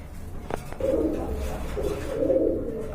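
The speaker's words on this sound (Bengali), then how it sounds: "এটা কিন্তু আপনার মাদি কবুতর" A pair of racer pigeons, including a female, coo in two soft, low warbling phrases close by, with a brief tap before the first and a quiet background.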